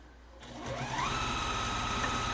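A sewing machine runs steadily while stitching a fabric mask, its motor rising to a fast, even whir after a brief quieter start and holding close and loud.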